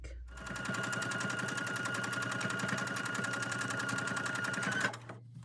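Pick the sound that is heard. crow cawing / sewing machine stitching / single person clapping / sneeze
sewing machine stitching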